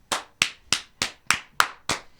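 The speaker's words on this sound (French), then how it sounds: "Je me permets d'applaudir." One person claps slowly and deliberately in a French talk-show setting, seven sharp, evenly spaced claps ringing out close and alone.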